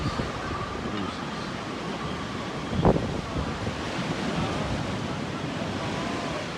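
Strong wind sweeps the seaside at Sopot in a steady, broad roar, with a brief gusty thump partway through and no clear voices.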